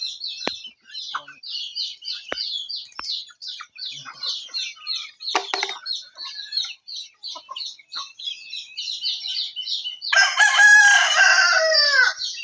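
Chickens chirp and cluck in quick, repeated bursts nearby, then a rooster lets out a loud, drawn-out crow at the end.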